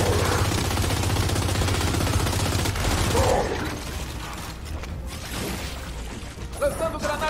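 Gunfire in the third-person shooter Gears 5 gives a dense, rattling burst of rapid shots. Mechanical clatter runs alongside it, then it thins to scattered sounds while someone talks over the action.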